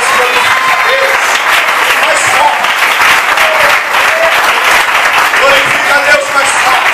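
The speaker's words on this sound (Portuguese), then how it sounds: "E a igreja aplauda a Deus aí fora" A church congregation applauds, a loud, full-room burst of clapping that stays dense and even throughout, with faint voices and cheers rising now and then within it.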